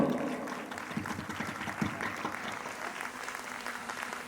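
An audience claps steadily at a motivational success-story event, a sustained mid-level roar of many hands with faint voices mixed in.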